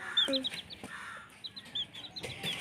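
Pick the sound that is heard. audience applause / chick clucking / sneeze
chick clucking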